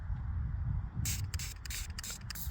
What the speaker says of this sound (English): let me turn my spray bottle on